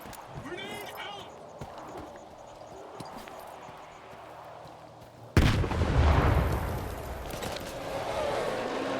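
A heavy explosion erupts in the STALKER 2 video game, a sudden loud boom with rumbling debris and gunfire after a stretch of scattered shots and voices, followed by ongoing combat noise.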